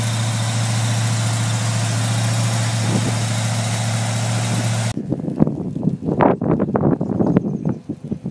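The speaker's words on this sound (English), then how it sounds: "Here's the power plant in the 50 Chevy pickup. It's a ZZ4 Chevy crate motor, 330 horsepower." A ZZ4 Chevy crate V8, 330 horsepower, idles in a 1950 Chevrolet 3100 pickup, a steady low rumble for about five seconds before the tone cuts off and gives way to irregular clunks and knocks.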